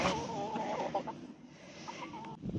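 Backyard hens cluck softly and steadily at close range just after their coop is opened, a continuous murmur of short calls over a slightly noisy background.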